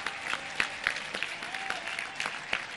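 A crowd at a public event for a highway modernization project in Morelos, Mexico, breaks into applause, a dense, steady clapping with audible individual claps and faint voices mixed in, sustained throughout.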